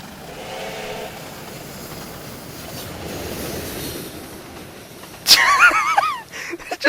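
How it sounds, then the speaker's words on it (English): A train in the game Trainz 12 rolls past the camera, a low rumble building gradually before a sudden loud burst of rushing noise and high wheel squeal near the end. "you can just watch the train go by"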